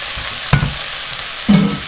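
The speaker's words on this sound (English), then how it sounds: "we've got our ingredients, then mushrooms, carrots, garlic, onions. Just add that all to the pan now." Mushrooms, carrots, garlic and onions frying in a pan, a steady sizzle with two louder bursts of stirring or tipping as ingredients go in, close by with no talk.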